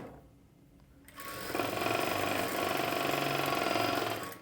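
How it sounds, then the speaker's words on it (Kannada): A sewing machine stitching plain blouse fabric starts after a second of quiet and runs in a fast, even mechanical whir with a steady rapid clatter, close up and without speech. "ಒಂದು ಹೊಲಿಗೆನ ಹಾಕ್ಕೊಳ್ಳಿ"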